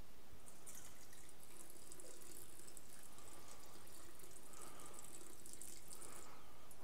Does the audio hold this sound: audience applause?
no